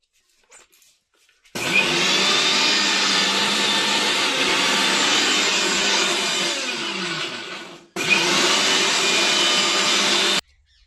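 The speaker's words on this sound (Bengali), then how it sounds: "তো মিক্সিতে পেস্ট করে নিচ্ছি।" An electric mixer grinder whirs loudly as it blends coriander masala into a paste, running steadily for about six seconds, cutting off briefly, then starting again for another two and a half seconds.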